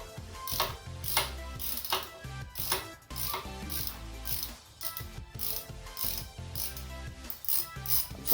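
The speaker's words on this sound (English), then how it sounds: "Now let's get this bolt out." A hand ratchet clicks rapidly in uneven bursts while backing a bolt out of a Manco Dingo go-kart motor, close and loud with short pauses between strokes, no voices.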